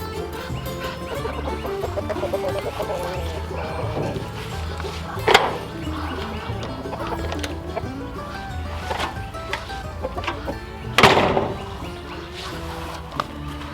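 Roosters cluck and murmur steadily in the background, with a couple of sharp thumps standing out above the barnyard chatter.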